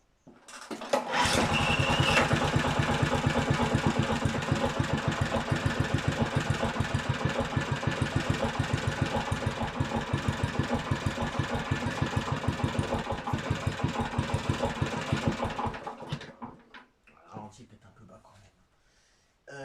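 A Honda HR21 lawn mower engine starts with a rough pull, then runs loudly at a steady, rapid putter for about fifteen seconds before cutting out.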